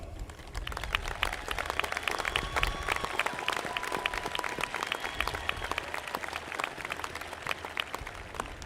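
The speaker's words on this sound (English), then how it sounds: "parents and guests, please join me in a round of applause" Parents and guests at a high school graduation ceremony applaud honor students, a sustained, even roar of many hands clapping throughout, moderately distant in a large hall.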